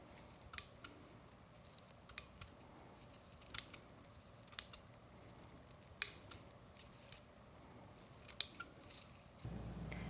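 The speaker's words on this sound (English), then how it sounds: "Then I'll trim the roots with scissors." Scissors snip through garlic bulb roots in a series of about ten sharp, close, crisp cuts at irregular intervals over a quiet background, with no talking.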